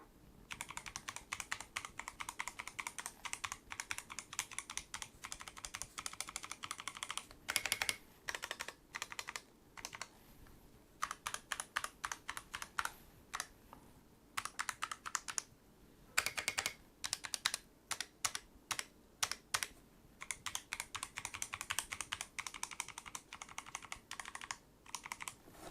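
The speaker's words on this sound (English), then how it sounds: "So I'll give you a quick example of what the keys actually sound like." Rapid typing on a Machenike K500F B81 75% mechanical keyboard with clear keycaps, held in the air: dense runs of crisp, close clicks with short pauses between bursts, no talking.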